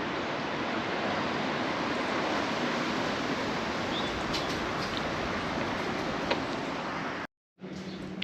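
Steady outdoor wind roars as broadband rushing noise for most of the clip, loud and close, broken by a brief dropout near the end.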